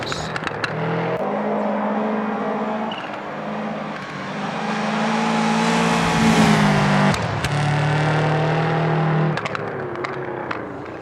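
A rally car engine in the video game Assetto Corsa Rally roars and revs continuously, pitch rising and falling through gear changes, with brief drops between shifts.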